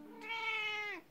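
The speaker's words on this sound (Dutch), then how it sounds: "Miauw." A single drawn-out cat meow, close and clear, rising then falling over about a second in a quiet indoor setting.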